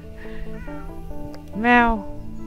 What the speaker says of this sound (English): There's a cat in the front gate.